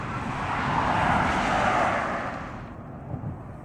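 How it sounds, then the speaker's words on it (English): A vehicle roars past a backyard garden, its broad engine and tyre noise swelling to a peak and then fading as it moves away, leaving quieter traffic hum. "I apologize for the cars and the noise"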